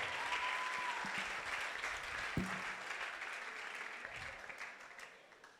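A church congregation claps and cheers in praise during a worship service, steady broadband applause filling the room throughout, with a brief thump partway through.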